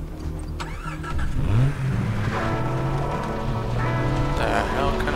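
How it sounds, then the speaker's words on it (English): A car engine in the video game Far Cry 3 starts and revs, rising in pitch and then holding a steady, loud mid-range drone, with a voice talking briefly over it. "My little car."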